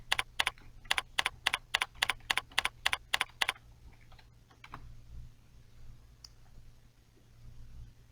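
Keys on a computer keyboard are tapped in a quick, even burst of about a dozen crisp strokes as a question is entered into a form field, then fall silent to faint room hiss with a few scattered soft clicks.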